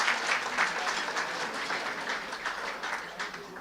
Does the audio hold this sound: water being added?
no